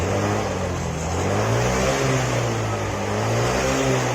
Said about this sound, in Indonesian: Coba kita gas.